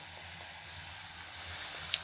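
Ginger garlic paste sizzles in hot oil in a frying pan while a ridge gourd milk curry is being cooked, giving a steady, close, hissing fry with no voices.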